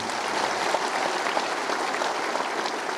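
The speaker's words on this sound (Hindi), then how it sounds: "जोरदार तालियों से अभिनंदन एक बार पुनः कर दीजिए।" Dense, sustained applause from a large crowd at a government event honouring the chief minister, steady and loud throughout with no clear gaps.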